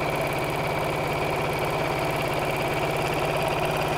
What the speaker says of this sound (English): And literally just sewing them in.